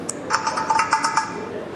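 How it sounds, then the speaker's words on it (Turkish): A short system notification chime on a Turkcell T40 phone: several quick, bright tonal pings in a rising-and-falling pattern, clear and close. "Hemen şuradan sistem bildirim sesine girdiğimizde"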